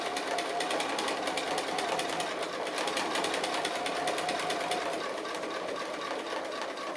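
A sewing machine stitches applique in a steady, rapid mechanical rhythm, running continuously at close range with a faint whirr and no talking over it.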